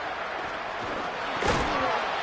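A single hard tackle hit in a college football game against Oklahoma State lands as one sharp thud partway through, over a constant stadium crowd roar.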